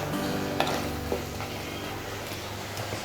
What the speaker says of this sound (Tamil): இப்போ நம்ம இந்த பாகக்காவை நல்லா எண்ணெயில் வதக்கிக்கலாம்.